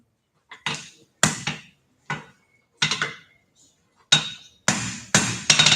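Separate ringing metal strikes as a drift is hammered into a forge-welded hinge at a blacksmith forge meeting, about eight sharp blows in uneven rhythm with short gaps, the last ones coming faster.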